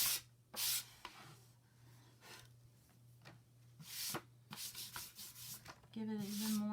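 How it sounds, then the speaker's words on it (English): Chalk paint on a craft piece is sanded by hand: quiet, close, scratchy rubbing strokes in irregular short bursts, separated by brief pauses. "I'm just going to sand down a little bit of what I just did."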